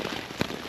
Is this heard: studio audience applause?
no